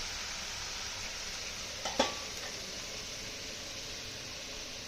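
Ridge gourd frying in a pan with spices: a soft, even sizzle runs throughout, broken by one brief spatula scrape as it is stirred partway through, quiet and close.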